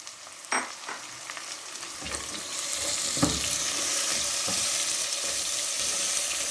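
Tomatoes drop into onion, ginger and garlic paste frying in a pan for gobi sabzi, with a few knocks at first, then a sizzle that swells and holds steady.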